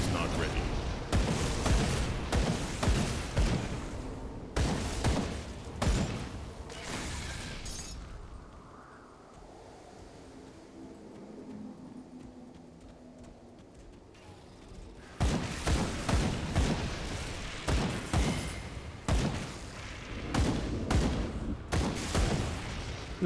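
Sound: enemies exploding in the video game Grim Dawn

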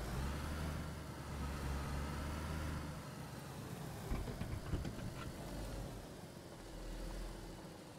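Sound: car engine running in video game DayZ

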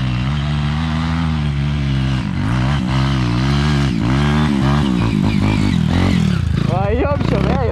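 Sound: trail motorcycle engine revving

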